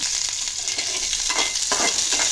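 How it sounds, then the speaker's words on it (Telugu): Green chillies, tamarind and cloves frying in a hot pan for coconut chutney, a continuous close sizzle with a few stirring scrapes rising through it, no voices. "గ్రీన్ చిల్లీస్ ఇంకా టామరెండ్ క్లోవ్స్ మూడు వేసేసి మంచిగా ఫ్రై చేసుకున్నాం"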